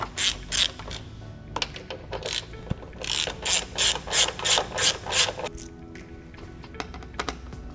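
Ratchet working T45 bolts loose from the skid plate under an Audi 8V A3, a run of quick, loud clicking bursts in steady rhythm with pauses and a few single clicks, close up and alone.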